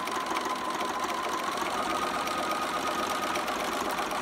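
A sewing machine sews fabric for a romper in one continuous, even whir, close and steady throughout with no pauses or voices.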